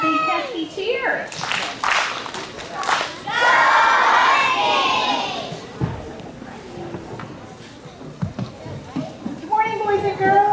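Elementary school children cheering at a morning meeting, bursts of loud high-pitched yelling and clapping in a room, then an adult speaks and children chant back in unison.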